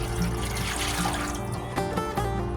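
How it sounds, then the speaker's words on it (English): Water pours into a smoker used for homemade Polish kielbasa, a steady splashing trickle under a low hum, fairly quiet and continuous, with no talking. "I'm going to add over here a bunch of water"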